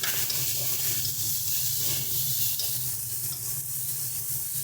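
Dried fish frying in a pan with dried chili powder and coriander powder being stirred in, giving a steady close sizzle with scraping stir sounds throughout and no talking.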